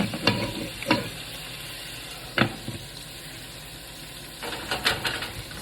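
Ground beef with peppers and onions cooking in a pan for chili, a steady low sizzle broken by a few sharp scraping stirs of a utensil against the pan, heard up close with no talk.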